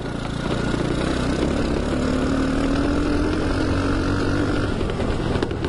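Small 125cc engine swapped into a kids' mini 4x4 drones steadily throughout, a continuous buzzing motor noise with a rising tone as it drives over dirt, no voices.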